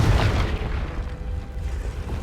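Confringo blasting spell cast in Hogwarts Legacy, heard as a heavy low boom that opens loudly and then settles into a rumbling, crackling blast. It plays alone with no talk.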